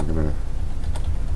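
Rapid keystrokes on a computer keyboard, typing text into a WordPress footer, with dense, close clicking through the whole stretch. A short voiced sound opens it.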